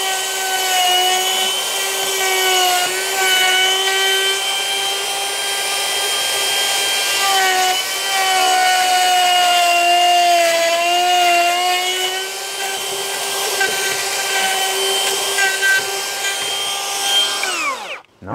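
A Hikoki battery-powered half-inch router cuts a joint in a kitchen worktop with a loud, close, high whine that holds steady with slight pitch wobbles as it feeds through, then winds down sharply at the end.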